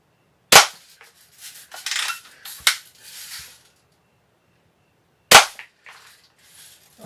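A Daisy Buck Model 105 spring-powered BB gun fires two sharp, close cracks a few seconds apart, each followed by brief mechanical clatter and handling noise in a quiet room.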